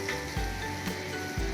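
Coriander leaves with turmeric fry in hot oil for coriander rice, a steady close sizzle with a few spatula stirs scraping the pan, no talk.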